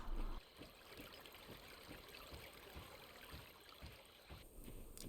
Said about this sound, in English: the quiet burble of a river